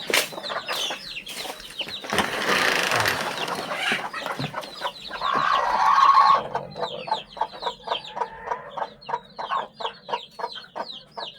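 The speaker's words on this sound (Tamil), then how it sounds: "நம்ம ஃபார்மில் இருக்கிற சிறுவடை குஞ்சுங்க." Rapid, high-pitched peeping of many three-day-old Siruvidai and country chicken chicks close by on a farm, with a louder burst of clucking partway through before the busy peeping resumes.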